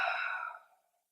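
A single long, breathy exhale during a yoga breathing exercise, loud at first and then trailing off into silence.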